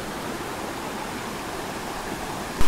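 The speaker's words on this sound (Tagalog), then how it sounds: "nakapwesto po tayo dito sa isang falls" Tenogtog Falls pours in a constant broadband rush of falling water, dense and unbroken at moderate loudness, with a brief knock at the very end and no voices.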